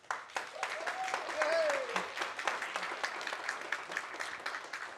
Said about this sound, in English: thank you for the applause here in the audio